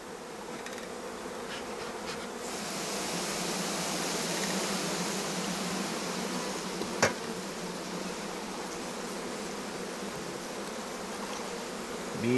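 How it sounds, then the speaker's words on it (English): Honey bees buzz around an open beehive colony, a dense, steady droning hum that fills the air continuously, with a brief tap partway through and no voices. "Bees everywhere, all the way through."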